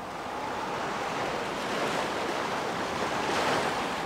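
Steady, broad roar of North Sea surf pounding against a dike during a storm flood, with wind mixed in; continuous and loud, no voices.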